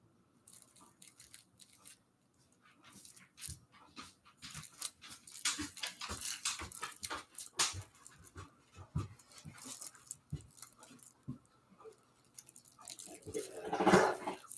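A big dog chews and gnaws with repeated wet clicking bites, along with panting and a brief whimper near the end, heard close and fairly quiet, with no talking.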